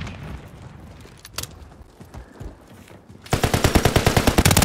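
Gunfire in the Call of Duty Modern Warfare video game: scattered shots and a few bangs, then loud rapid automatic bursts firing in a fast, steady rhythm near the end.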